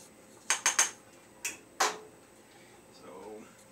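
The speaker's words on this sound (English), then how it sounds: "You gotta stir it so that it don't clump together." Pasta Roni noodles are stirred in a pot, giving a quick cluster of three sharp metallic clinks, then two more spaced knocks of utensil against the pot, followed by a faint scraping rustle.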